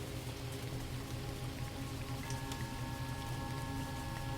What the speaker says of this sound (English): Rain continues gently on the roof above, predictable, steady, safe.